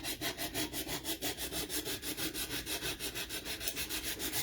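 Wooden shelf-sitter cutouts being distressed with sandpaper, a steady back-and-forth rasping in quick even strokes, close and fairly loud with no voices.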